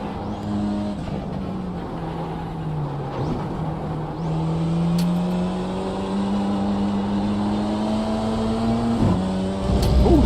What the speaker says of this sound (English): That's actually the first ever BMW sound on iRacing that actually sounds realistic.